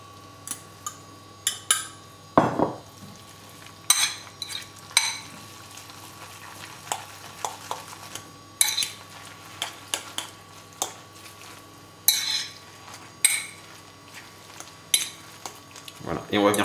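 Pasta stirred into a preparation of leftover poultry, with a utensil clinking and scraping against the bowl in irregular bursts across several seconds, close and quiet, without speech.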